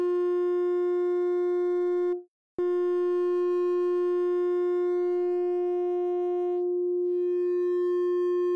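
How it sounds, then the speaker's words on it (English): A steady, pure-sounding unmodulated sine wave from a synthesizer oscillator holds at one pitch, breaks off briefly with a click, then resumes and sustains evenly. "the unmodulated sine wave at first"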